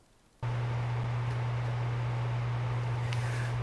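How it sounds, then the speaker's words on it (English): A steady electric fan hum starts abruptly and runs on evenly, a constant low drone with a faint airy hiss over it, no voices. "I'm currently in the noisiest room in my apartment right now with a fan running"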